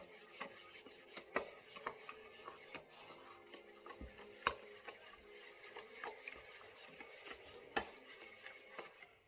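A big spoonful of flour being stirred into a yeast mixture in a bowl, a quiet, close, steady scraping and rubbing with small irregular clicks of the spoon.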